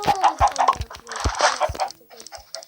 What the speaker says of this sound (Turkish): Tarladaki tavuklar